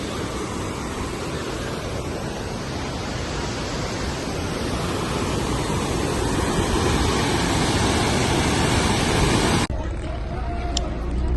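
Waterfall at Gangotri in Uttarakhand, a loud, steady, close roar of falling water that fills the scene and then drops abruptly to a quieter, thinner wash near the end.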